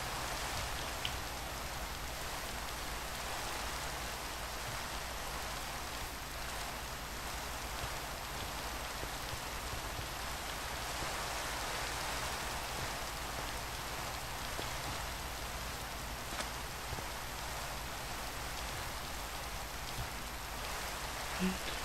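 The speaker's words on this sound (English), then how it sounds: "the acid rain only damages me, but not the mobs" Steady, dense hiss of acid rain pouring down in the Minecraft video game, an even unbroken patter that fills the whole stretch at moderate loudness with no talking over it.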